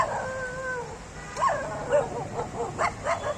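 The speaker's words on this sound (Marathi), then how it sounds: "तुम्हाला आवाज येत असेल डॉगी लोकांचा डॉगी सुद्धा भुकतात" Dogs bark, howl and yip in short bursts at a moderate distance by a river, the cries rising and falling, with faint voices underneath.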